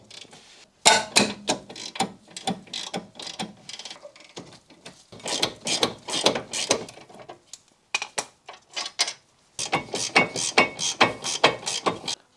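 A ratchet works loose the 17mm front brake carrier bolts on an NC Mazda MX-5 Miata, bursts of rapid close clicking in several runs separated by short pauses.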